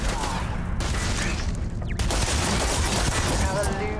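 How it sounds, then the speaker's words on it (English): Heavy weapon fire from a giant railgun in the sci-fi game Starfield, a dense, continuous roar of blasts and booms that fills the whole moment at high volume, with no pauses. "that's like a giant railgun."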